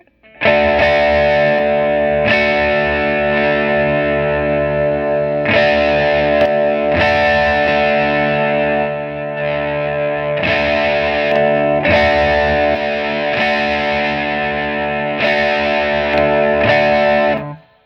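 Electric guitar played through a Marshall JTM60 amp with every knob turned fully up, loud distorted chords ringing out and restruck every couple of seconds, thick and sustained with no voices.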